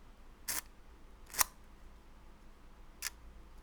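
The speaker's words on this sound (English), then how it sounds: "Very nice and quiet shutter." A tiny compact film camera's shutter fires three times, each a soft, quick, quiet click with long pauses between, close and isolated against faint room noise.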